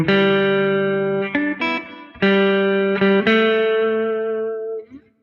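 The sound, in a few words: electric guitar playing a riff with effects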